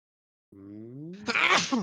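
A single close sneeze: a rising indrawn breath followed by a sharp, loud burst, heard alone.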